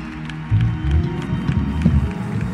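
A church congregation at a fasting and prayer service claps and cheers for Jesus, a close, loud wash of many hands and voices with a rumbling low end that stays steady throughout.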